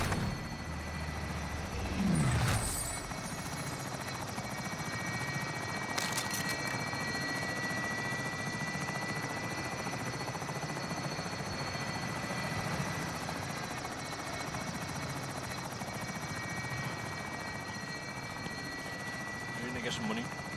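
A helicopter in the video game Call of Duty Warzone gives off a continuous rotor drone throughout, steady and moderately loud, with occasional brief game noises on top.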